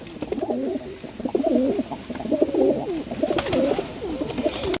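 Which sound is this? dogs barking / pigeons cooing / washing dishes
pigeons cooing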